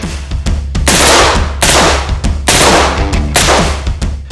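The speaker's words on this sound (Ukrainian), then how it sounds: "Зараз зробимо запис 10 пострілів автоматичною чергою." Several loud bursts of rapid automatic rifle fire, close by, each lasting under a second with short pauses between them, recorded on a battlefield.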